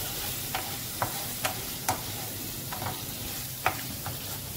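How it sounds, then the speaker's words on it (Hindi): Cashew paste, made from 15 to 20 cashews, sautés in a pan for chicken Patiala with a steady soft sizzle, and a spoon scrapes and stirs in scattered light clicks through the sizzle. "इन्हें अच्छे तरीके से सौते करेंगे।"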